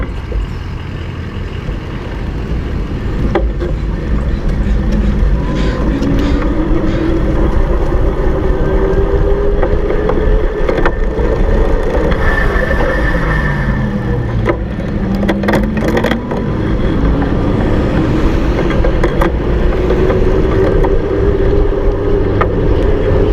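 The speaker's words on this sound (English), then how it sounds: "I'm trying to get you as close to that motor as possible" Rad Power Bikes RadWagon electric cargo bike with a Shimano Altus drivetrain, its hub motor whining in rising and falling tones along a bike path, under steady loud wind rush against the microphone.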